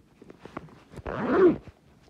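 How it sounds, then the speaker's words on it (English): A pocket zipper on a Belgian Armed Forces jigsaw camo jacket is pulled open in one quick, close rasp lasting about half a second, after some light rustling and handling noises. "Let's unzip it and see what we get."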